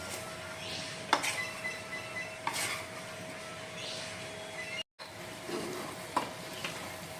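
Mixed vegetables are stirred with salt in a wok, a continuous sizzle with a few sharp scrapes and taps of the utensil against the metal pan.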